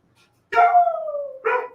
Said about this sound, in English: Let him bark and howl.